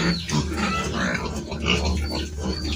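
A sow separated from her one-and-a-half-month-old piglets grunts and oinks continuously at close range, with overlapping squeals and snorts from the pen filling the whole stretch.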